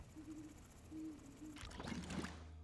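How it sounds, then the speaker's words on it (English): An owl hooting in the video game Dome Keeper, a few soft low hoots spaced apart, followed by a busier burst of game sounds. "did you hear the owl? He was greeting us as we came back to base."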